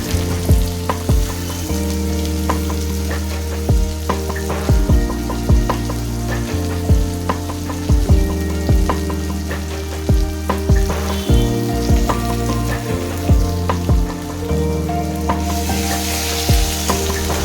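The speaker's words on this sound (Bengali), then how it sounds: "কুচুনো পেঁয়াজ দিয়ে ভালো করে ভাজতে হবে" Chopped onions fry in hot oil in a kadai after a whole garam masala tempering, a loud, steady sizzle with repeated scraping stirs and clanks of the ladle against the pan, alone without any voice.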